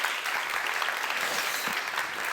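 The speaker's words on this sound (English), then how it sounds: "just an applause." Dense, steady audience applause at a creativity forum plenary session, a continuous wash of many hands clapping for a couple of seconds with no voices.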